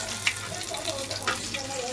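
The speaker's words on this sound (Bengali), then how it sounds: "কটা শুকনো লঙ্কা ভেজে নিচ্ছি।" Dried red chillies frying in a pan give a soft, steady sizzle with a few brief crackles, fairly quiet and close, with no talking over it.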